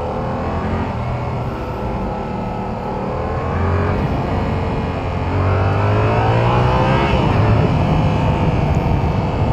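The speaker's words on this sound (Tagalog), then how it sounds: "Medyo tahimik pa yung motor" Yamaha R7 sport motorcycle engine running at fairly low volume, a steady broadband drone with slowly shifting pitch and a slight rise in level midway, continuous throughout with no talking.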